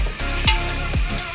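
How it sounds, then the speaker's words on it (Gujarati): Spices and finely chopped tomatoes sizzle loudly in hot oil while being stirred, a tempering for Gujarati dal dhokli, with a close, continuous frying hiss. "થોડોક આ વઘારનો અવાજ આવે છે ભેગા ભેગો"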